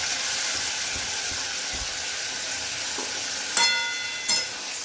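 Prawns and kochur loti (taro stolons) hit hot oil and spices in a Bengali home kitchen, giving a steady close sizzling hiss throughout, with two sharper crackling bursts near the end.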